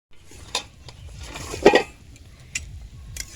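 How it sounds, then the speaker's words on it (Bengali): A metal lid lifted off a cooking pot of lemon and fish curry, with a clattering clink near the middle and lighter metallic taps before and after, close and clear over low kitchen rumble. "আমি ঢাকা খুলে দেখে নেব"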